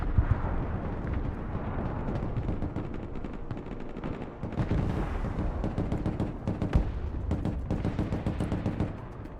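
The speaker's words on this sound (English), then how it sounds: "why do I keep hearing missiles launch?" Broken Arrow combat game battle: dense rolling barrage of launches, booms and rapid gunfire, a continuous loud roar with sharp cracks scattered throughout, no voices.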